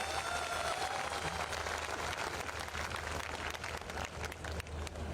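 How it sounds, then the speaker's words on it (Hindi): An audience at an RCM gathering breaks into applause, a dense, sustained wash of many hands clapping together that fills the hall for several seconds. "एक बार आशुतोष जी के लिए बहुत जोरदार तालियां चाहता हूँ"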